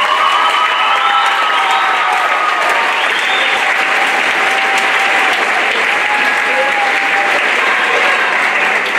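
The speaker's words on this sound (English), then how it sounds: "Let's give her one more last round of applause." A school audience applauds a retiring teacher at a spring choral concert, a dense, steady wash of many hands clapping for the full length, loud and continuous with some cheering mixed in.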